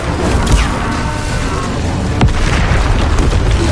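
The Incendio fire spell cast in Hogwarts Legacy, a loud roaring whoosh of flame with booming impacts layered over a continuous dense rumble of combat effects.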